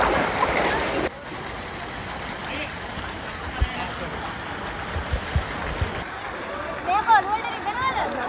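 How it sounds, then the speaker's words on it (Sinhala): Strong rushing water at the Dubai Atlantis water park makes a constant broadband roar, with voices talking over it and occasional low thumps and splashes. "මෙතන හට නම් වතුර පාර සැර වැඩිය"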